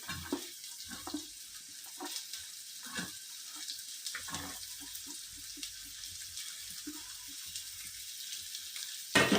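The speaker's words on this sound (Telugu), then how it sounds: "ఉల్లిపాయలు వేసేద్దాం ఫస్ట్." Onions hiss and sizzle as they fry in a pan for a Telugu egg and taro curry, a steady broadband crackle with scattered pops and stirring, no voices.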